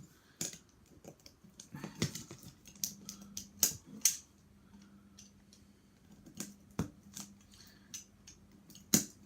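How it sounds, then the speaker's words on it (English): Sharp snipping clicks as excess pieces are cut off a Ugears wooden racing car model, a dozen or so irregular, close cuts over a faint low hum. "Cut the excess of both of them."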